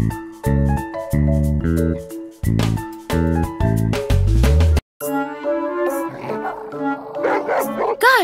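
Cartoon dogs in a children's puppy care video game bark and yip in quick bursts over bright game music, followed by whimpering sounds and jingly effects.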